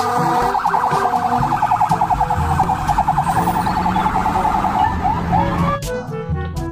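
A toy ambulance plays a continuous electronic wailing siren, loud and close, sweeping steadily for several seconds before cutting off near the end.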